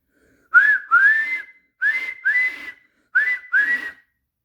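Guard's whistle in a train story, sounded as three pairs of shrill rising toots with pauses between, loud and clear with no other noise, apparently a person whistling the call.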